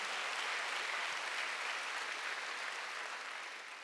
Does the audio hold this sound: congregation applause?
yes